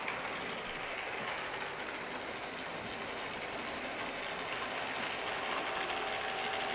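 A Hornby-style model steam locomotive runs along its track, giving a steady, close rolling rattle with faint clicking over the rails, continuous with no voices.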